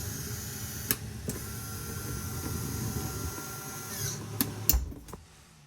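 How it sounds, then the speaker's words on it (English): The motorized roof vent fan lid of a 2022 Salem Grand Villa 42FLDL RV opens with a steady electric motor whir and a few clicks, then stops with a thunk and falls quiet. "you'll turn fan on, hold down open to open that up."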